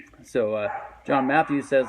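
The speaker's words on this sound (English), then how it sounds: "Excuse my dogs barking in the background there." Dogs bark in short, loud, repeated bursts behind a man's speech, several yelps stacked close together as he keeps talking.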